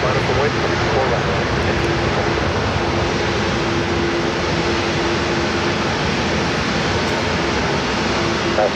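Airliner taking off from runway 34 right at Seattle-Tacoma International, a loud continuous broadband engine roar filling the scene with a faint steady hum beneath, and a voice talking over it.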